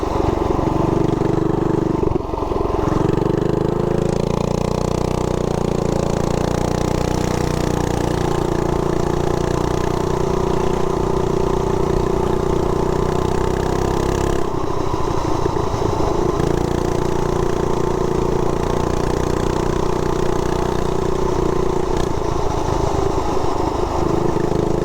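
A Harley-Davidson Softail motorcycle warms up at idle, its engine giving a steady, loud, close rumble with a lumpy, even pulse that carries on without a break.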